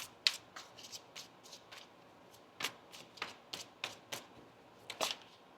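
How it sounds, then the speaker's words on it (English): Tarot cards are shuffled close by in a series of quick, crisp riffling bursts, irregularly spaced, with a faint background hiss and no talking. "I'm going to give that another shuffle there for you, Leo."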